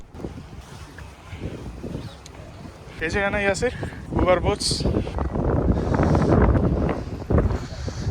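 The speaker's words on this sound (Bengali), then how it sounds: "শুনতেই পাচ্ছেন প্রচণ্ড বাতাস চলতেছে" Strong wind blows outdoors in London beside an Uber Boat pier on the river at New Year. Gusty buffeting rumbles against the microphone beneath a man's close, breathy talk.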